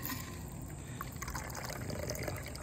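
A shaken cocktail made with simple syrup and a dash of cinnamon is poured into a glass, giving a faint, steady liquid trickle against a constant background hiss.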